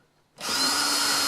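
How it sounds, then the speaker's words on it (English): Close-up power drill boring into a handmade wooden keyboard case, starting abruptly after a brief quiet moment and holding a steady, loud, high whine to the end. "Got to drill in slowly because I don't want too much tear out."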